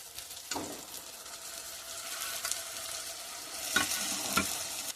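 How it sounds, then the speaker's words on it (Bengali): Fish head frying with spice paste in a pan, a soft continuous sizzle with a few scraping stir strokes and light knocks, close but fairly quiet, no voices. "আরও 2-1 মিনিট মুড়োর সঙ্গে মশলাটা ভালো করে কষিয়ে নেব"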